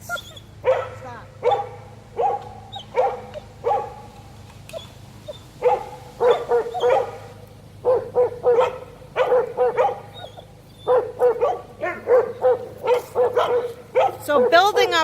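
Several dogs barking outdoors during a walk near other dogs, repeated sharp barks and yips in uneven bursts at moderate distance, with a person's voice giving commands in between.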